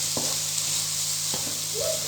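Onions soften in a pan with a steady, close sizzle; a couple of sharp knocks of a utensil and a brief scrape break through the constant frying hiss.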